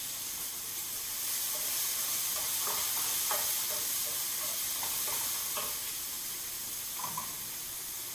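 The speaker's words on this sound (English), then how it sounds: "Now I'm going to go in with my garlic as well." Garlic and mushrooms fry in a pan for chicken cacciatore, a steady close sizzle broken by scattered scraping and clinking stirs, with no one speaking.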